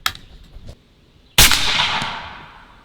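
A single sharp air rifle shot from a Bintac MCAR 7000 PSI air rifle, a loud crack with a decaying ring after some faint clicks, close and alone with no talk.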